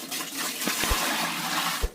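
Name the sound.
water filling scrubbed brass pots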